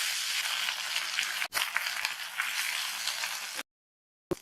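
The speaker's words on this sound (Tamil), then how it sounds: "கீரையை 1/2 நிமிஷத்துக்கு எண்ணெயிலேயே வதக்கி விட்டுக்கோங்க" Drumstick leaves sautéing in hot oil with green chilli and garlic, a steady close crackling sizzle that breaks off briefly, resumes, then cuts to silence near the end.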